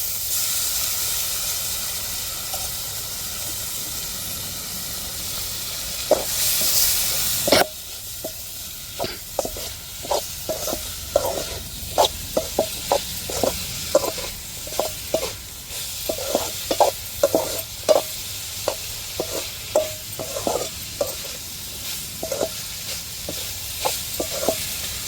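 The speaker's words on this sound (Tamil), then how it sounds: "நல்லா வதக்கி விட்டுருவோம். இப்போ மாசி கருவாட்டை சேர்த்துருவோம்." Masi dried fish sautéing in a hot pan, a constant close hiss and sizzle, broken after a sudden louder burst by repeated spatula scrapes and knocks against the pan, with no talking.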